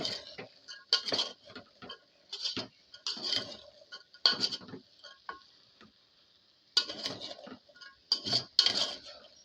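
A utensil stirs tomatoes in a cooking pan, producing repeated metallic scraping and clinking strokes in an uneven rhythm, close and moderately loud, with short pauses between bursts.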